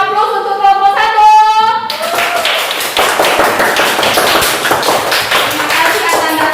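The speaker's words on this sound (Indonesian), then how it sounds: "Kita kasih tepuk tangan aplaus untuk kelompok 1" A teacher speaks briefly, then a classroom of students claps for a presenting group, giving steady, energetic applause that continues to the end.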